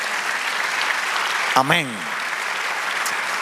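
A church congregation applauds steadily throughout, a dense wash of clapping with one voice briefly calling out partway through.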